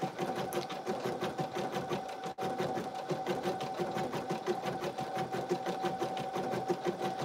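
An embroidery machine stitches an in-the-hoop lip balm holder, a steady, fast, rhythmic mechanical chatter of the needle running close and continuous with one brief break.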